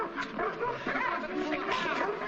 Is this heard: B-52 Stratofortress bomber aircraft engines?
no